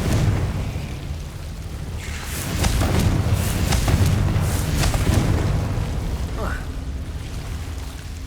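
A Confringo blasting curse in Hogwarts Legacy erupts into a deep, rumbling explosion with several booming bursts in a row, loud and close, while a voice speaks over the blasts.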